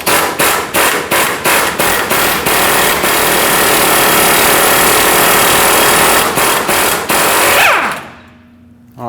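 An impact or air tool hammers at a stuck nut on a steering knuckle bolt of a 2005-2021 Nissan Frontier 2WD, loud close bursts of rapid rattling followed by a long continuous run that then winds down and stops.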